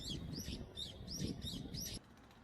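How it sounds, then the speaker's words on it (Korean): Small wild birds chirping around an apartment complex, a string of repeated bright tweets in quick succession over low urban background rumble, ending abruptly. "우리 곁에 가장 가까이 살고 있는 야생동물인 새입니다"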